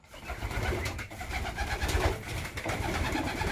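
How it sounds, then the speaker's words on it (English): Pigeons coo steadily outdoors in the morning, a continuous low throaty cooing from several birds close by, with no voices. "That's a beautiful pigeon."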